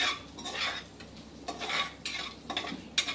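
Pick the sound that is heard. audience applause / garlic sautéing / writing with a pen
garlic sautéing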